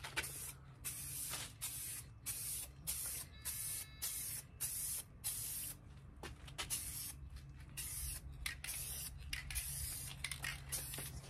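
A spray paint can hissing in short repeated bursts outdoors, each spray lasting about a second with brief gaps and light can rattles between, close and steady.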